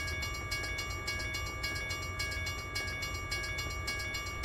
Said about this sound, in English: that train's taking forever